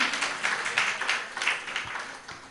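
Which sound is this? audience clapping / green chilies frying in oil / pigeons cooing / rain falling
audience clapping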